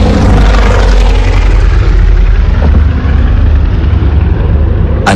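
Luftwaffe propeller aircraft engines drone loud and constant, a heavy low rumble with layered engine tone that fills the whole stretch, ending in a sudden sharp burst.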